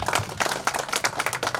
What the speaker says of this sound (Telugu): ప్లీజ్ అందరూ ఒక్కసారి చప్పట్లు కొట్టాలి